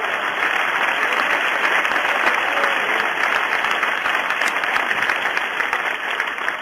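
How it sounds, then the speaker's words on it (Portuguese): A church congregation claps together in steady, dense applause that holds evenly throughout the whole stretch, moderately loud and without voices rising above it. "Aplauda o nome do Senhor essa."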